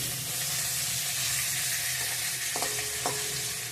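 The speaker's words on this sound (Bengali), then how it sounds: "অর্ধেকটা মাছ ভাজা হয়েছে আর অর্ধেকটা করে নিচ্ছি" Fish pieces frying in a pan, a dense, steady close sizzle and hiss throughout with a couple of brief utensil clinks near the end.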